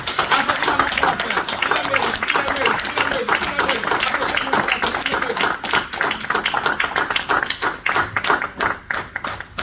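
A church congregation gives a loud, dense round of applause that runs without a break, many hands clapping together, with voices mixed in under the clapping.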